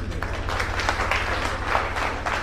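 Audience at a network marketing seminar in India breaks into steady applause, dense rapid clapping from many hands held at an even, fairly loud level throughout.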